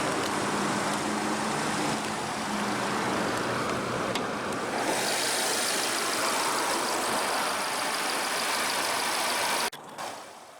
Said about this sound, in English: Powering the Golf GTI is Volkswagen's TSI 2-liter turbocharged inline-4 engine.